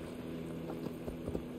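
Horse hooves clip-clop at a walking pace in Assassin's Creed Valhalla, a handful of soft, irregular steps over a steady game ambience, fairly quiet and with no talk.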